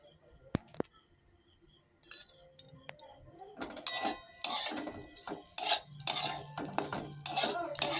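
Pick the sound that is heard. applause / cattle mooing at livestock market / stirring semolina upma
stirring semolina upma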